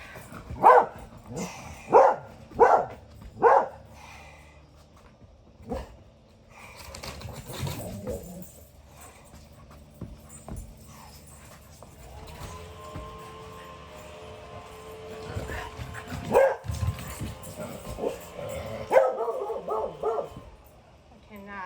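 A dog barks four times in quick succession nearby, then a few scattered barks later as people talk and move around.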